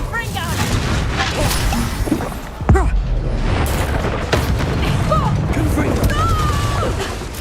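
Bombarda spell explosion in the video game Hogwarts Legacy, a sudden booming blast cutting through dense battle noise, spell effects and shouted dialogue, with a sharp loud impact partway through.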